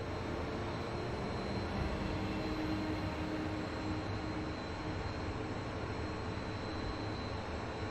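A Ukrainian Su-27 jet, 58 Blue, in a flight simulator air show demo, its engine giving a steady, dense roar that holds at an even level without a break from start to end.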